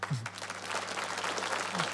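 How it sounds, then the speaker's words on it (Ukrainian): Applause from an audience of around 300 people in a hall, a dense steady patter of clapping filling the whole moment at even loudness, with a brief voice sound near the start. "ви вже, мабуть, чуєте оплески 300 пар ручок"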